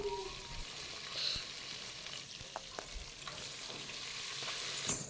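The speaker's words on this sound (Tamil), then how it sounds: "இப்போ எண்ணெயில் நல்லா வதங்கிட்டுருக்கு வெங்காயம்." Soft, steady sizzling of onions frying in hot oil, with occasional stirring clinks and scrapes close by.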